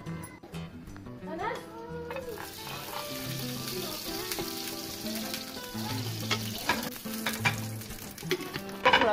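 A slice of bread fries in a hot pan for a club sandwich, a steady sizzle running under a person's voice, with some stirring and scraping.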